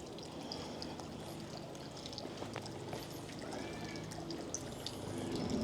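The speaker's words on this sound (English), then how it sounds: "A little bit of running water at the end there." Running water trickles faintly and steadily into a plunge pool in the formal garden of the Tatton Park stately home, a soft continuous wash with no other sound standing out.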